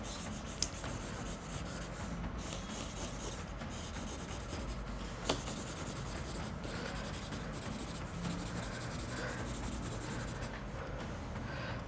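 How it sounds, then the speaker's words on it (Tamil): A chisel-tip marker scratching across paper while drawing a caricature, a steady close dry rubbing and squeaking of strokes with occasional small taps, no voices. "டைரெக்டாக நான் வந்து சிசல் மார்க்கரில் வர கேரிகேச்சர் வரைகிறேன்"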